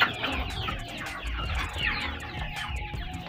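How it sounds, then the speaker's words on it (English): Young chicks feeding on azolla, a busy chorus of close, high peeping and soft clucking with pecking and rustling underneath, continuous and fairly loud. "the chicks are feeding quite nicely with on this Azolla"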